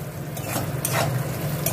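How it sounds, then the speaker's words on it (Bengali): Peanuts sizzle in hot oil in a pan while being stirred for a banana-stem and puffed-rice curry, giving a continuous close frying hiss with scraping stirs, and no voices. "একটু বাদামগুলো ভাজা হোক তেলে"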